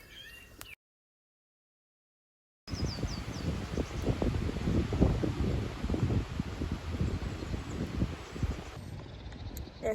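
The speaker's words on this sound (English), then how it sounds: "it is raining like crazy and it is super windy" Strong wind buffets the microphone in dense, rumbling gusts with a constant wash of noise like heavy rain, after a brief stretch of silence.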